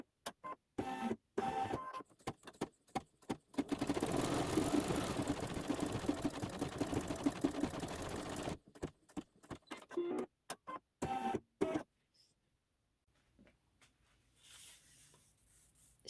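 An embroidery machine stitches a pine tree design on a quilt block, its rapid mechanical needle chatter running steadily for several seconds between short bursts and stops, then falling quiet.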